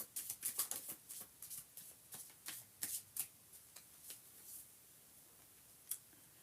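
Oracle cards being shuffled for a love reading, quiet and close, with a quick run of papery riffling at the start that thins into scattered soft taps and slides.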